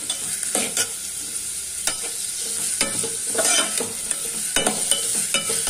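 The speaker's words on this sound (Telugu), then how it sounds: "ఇలా ఉల్లిపాయ పచ్చిమిర్చి వేసుకొని బాగా ఫ్రై చేసుకోవాలి" Onion and green chillies fry in oil in a pan, making a steady close sizzle with a scraping stir every second or so.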